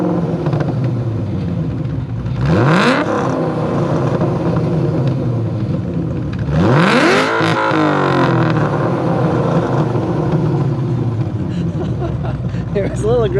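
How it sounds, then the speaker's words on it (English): A cammed Ford Shelby GT500 rumbles with a choppy idle, then its exhaust is revved hard twice, each rev sweeping up in pitch and falling back to idle, loud and close. "There's a nice cammed idle."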